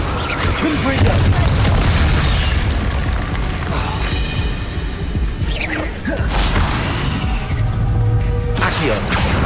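Confringo spell blasts in Hogwarts Legacy on PS5 land amid dense combat, loud booming bursts and whooshes piling up continuously over a busy mix of battle noise and mechanical clatter.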